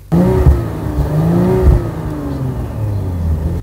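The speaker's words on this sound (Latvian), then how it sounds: "ieslēdzot Dynamic režīmu, nedaudz pakāpjās dzinēja apgriezienu, un arī rūkoņu izplūdes sistēma ir pilnīgi citādāk" An Audi RS5 in Dynamic mode revs up close and loud, its engine speed rising and falling over a deep, continuous exhaust rumble before it settles to a lower drone.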